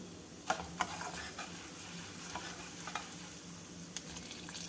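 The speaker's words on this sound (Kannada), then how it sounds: "ಕಾಲು ಚಮಚ ಮೆಂತ್ಯ ಕಾಳು ಒಂದು ಸ್ವಲ್ಪ ಇಂಗು ಈಗ ಇದನ್ನೆಲ್ಲ ಸ್ವಲ್ಪ ಫ್ರೈ ಮಾಡ್ಕೊಳ್ಳೋಣ" Fenugreek seeds and asafoetida fry with cumin in oil in a pan, making a continuous crackling sizzle punctuated by light scraping strokes of a spoon.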